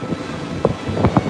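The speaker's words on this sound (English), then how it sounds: "It's really windy today." Wind buffets an outdoor microphone near a theme park parking lot, a low rumbling roar with a few sharper gusts popping through toward the end.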